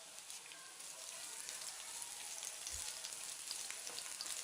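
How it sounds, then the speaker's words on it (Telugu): Finely chopped garlic frying in oil for restaurant-style chilli chicken, giving a steady, hissing sizzle that holds evenly throughout at moderate volume, with no voices. "సన్నగా తరిగిన వెల్లుల్లి ముక్కలు వేసుకుని వేపుకోవాలి"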